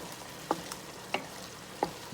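Salted shrimp and vegetables stirred in a Power XL cooker: a soft sizzle under three sharp utensil scrapes and clinks about two-thirds of a second apart, close and fairly quiet.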